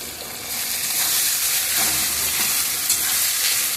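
Mango leaves and ground spice paste fry in a pan with a steady, dense, close hiss that holds at an even loudness throughout.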